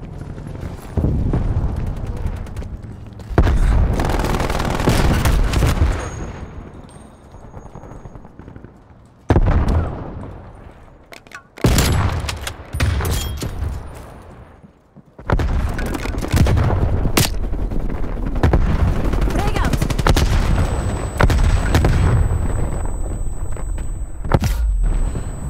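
Sentry turrets in a video game fire in long, loud, dense bursts of rapid gunfire and blasts, split by short quieter gaps and ending in sustained heavy firing.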